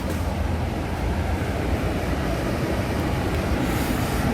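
Low, steady rumble and broadband road noise fill the rear seats of a new Sempati Star bus while it moves, continuous and fairly loud with no talk.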